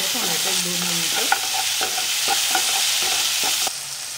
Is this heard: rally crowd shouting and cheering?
no